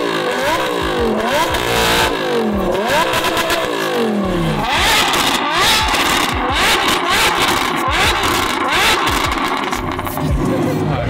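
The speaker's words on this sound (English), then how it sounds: "Can you give him a little rev?" A Lamborghini engine revving hard near the listener, repeated rising and falling bursts of roaring throttle with crackles, loud and continuous, with brief voices faintly underneath.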